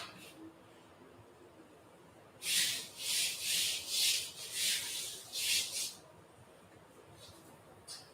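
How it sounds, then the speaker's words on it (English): Hands rubbing flour onto fresh pappardelle pasta dough give a run of about six close, soft, rhythmic rasping strokes lasting a few seconds, with quiet room noise before and after. "Just sprinkle it on there and rub it."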